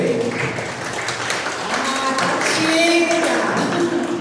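A church congregation gives a few seconds of scattered hand clapping, moderately loud and close, mixed with murmuring voices and light taps.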